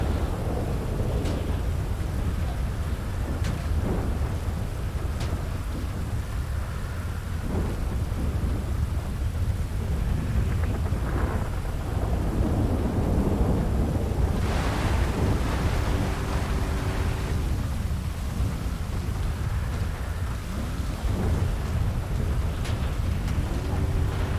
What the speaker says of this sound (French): Cette tempête nous aura à l'œil.